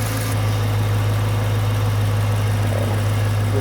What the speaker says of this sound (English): we've had the car running for a little minute